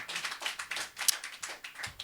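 Audience at a slam poetry event clapping, a quiet, fairly sparse patter of hand claps in an uneven rhythm, distant and soft, with one sharper clap near the middle.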